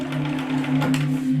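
Steady mechanical hum of a sewing machine running a construction stitch with white thread on a tote bag, a continuous whirring drone with faint rhythmic ticking throughout and no talk.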